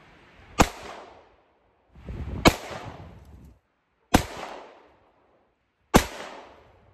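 Four sharp shots from a Bond Arms Bullpup 9mm pistol with a 3.25-inch barrel, spaced roughly every one and a half to two seconds, each a loud crack followed by a decaying echo, with no talk.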